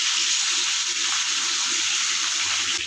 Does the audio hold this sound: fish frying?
yes